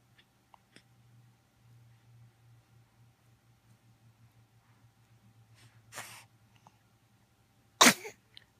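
A single sharp, loud sneeze bursts out near the end, close by, after a long quiet stretch with a low steady hum and a few small clicks. A softer breathy burst comes just before it.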